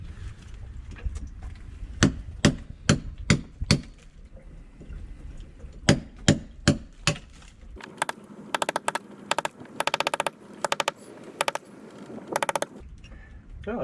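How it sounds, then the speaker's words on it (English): A hammer drives a chisel into a brick wall to chip out room for a dryer vent hole, giving loud, close metallic strikes in quick rhythmic bursts, followed by a denser run of rapid blows. "So I'm going to chisel away this brick and leave room for the hole saw."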